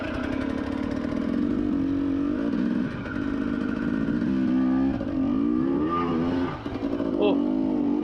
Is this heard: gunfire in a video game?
no